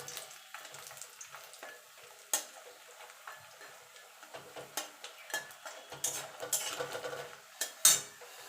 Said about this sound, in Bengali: দেখুন বন্ধু বড়িটা ভাজা হয়ে গেছে